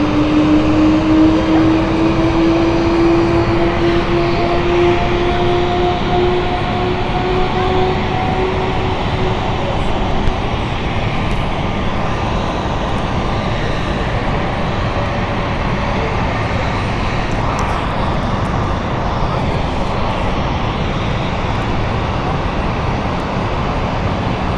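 Aircraft engine started and running at London City Airport, a loud continuous roar with a rising whine that slowly glides in pitch, steady throughout and heard close without talk.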